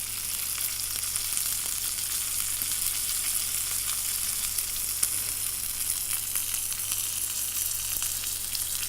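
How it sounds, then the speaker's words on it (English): Steak fat searing against a hot pan, a steady, dense sizzle that holds evenly throughout, close and continuous with no talking. "sear it on the side, on the fat, just to help get that fat a little bit crispy"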